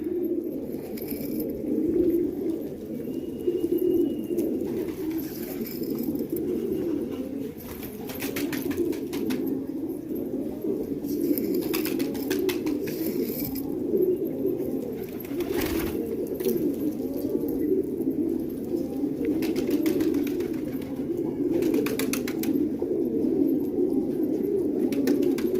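Pigeons of the Multani breed coo continuously in a soft, murmuring chorus, with occasional wing flaps and chirps mixed into steady low background noise.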